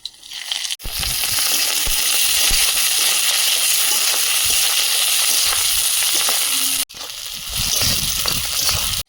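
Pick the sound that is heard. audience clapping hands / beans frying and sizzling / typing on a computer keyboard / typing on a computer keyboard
beans frying and sizzling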